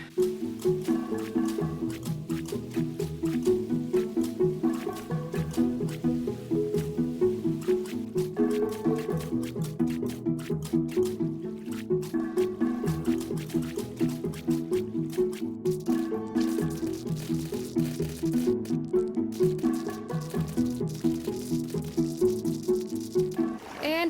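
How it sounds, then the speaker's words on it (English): Water being poured to fill a pond in Minecraft, a continuous run of soft dripping and splashing liquid sounds repeating steadily for the whole stretch, moderately loud with no speech. "Now I get to fill in all of this with water."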